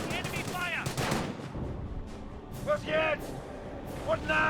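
Gunfire from a force-fire-on-the-ground order rattles in bursts during a Company of Heroes match, sounding mid-distance amid the game's battle noise, with voice-like tonal sounds in between.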